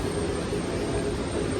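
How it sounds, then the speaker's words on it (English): Airplanes at a busy airport make a steady, loud roar that fills the whole stretch without a break. "My voice might not be heard because it's too loud, like the planes are coming and going."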